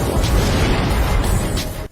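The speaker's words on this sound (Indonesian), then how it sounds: "Gunakan bom untuk meledakkan pintu." A bomb blowing open a prison door: a loud, sustained booming blast roars for about two seconds and then cuts off abruptly.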